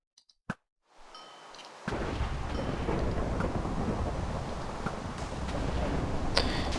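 In the Minecraft Sheep Wars game, a few sharp clicks come first, then rain builds to a steady, loud hiss. A low thunder rumble rolls under the rain.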